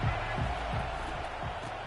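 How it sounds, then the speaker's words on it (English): Stadium crowd at a TCU versus OSU college football game, a steady dense roar of many voices filling the air, loud and continuous with faint bursts of shouting. "This crowd bringing the energy and noise early"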